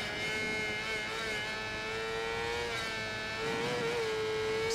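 Motorcycle engine in the Ride 4 racing game held at high revs under throttle, a loud continuous whine that shifts pitch slightly, with no talk.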